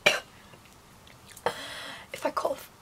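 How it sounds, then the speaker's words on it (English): A woman coughs several times in short, separate bursts, close to the microphone, with quiet pauses in between. "I got a cough."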